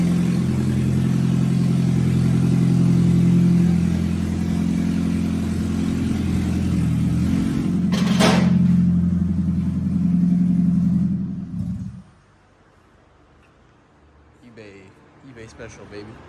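A Toyota Prius running a straight test pipe after catalytic converter theft gives a loud, raspy, droning exhaust rumble up close that cuts off abruptly, leaving faint background noise; speech is heard over it.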